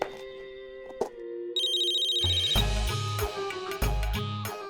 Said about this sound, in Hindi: इतना टाइम क्यों लगा फोन उठाने में?